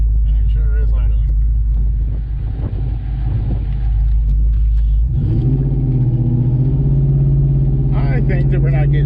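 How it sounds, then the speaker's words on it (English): A nitrous-injected New Edge project car's engine idles with a deep, steady rumble, close and loud, its low drone shifting in pitch partway through while someone talks over it. "It's idling. And it sure is idling."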